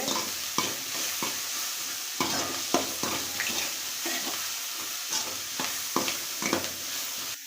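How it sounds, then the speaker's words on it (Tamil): Sliced onions sizzling in hot oil with salt while being stirred toward golden brown, a steady close crackle broken by scraping stirs, no talking. "உப்பு சேர்த்து நம்ம வெங்காயத்தை நல்லா பொன்னிறமாக வர்ற வரைக்கும் வறுத்து விட்டுக்கலாம்."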